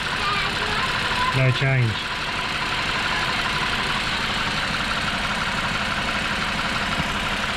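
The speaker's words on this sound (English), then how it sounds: "you pull this injector plug off, and it starts running worse" Engine idling roughly with one fuel injector plug pulled off, a steady close mechanical drone throughout; a person speaks briefly over it early on.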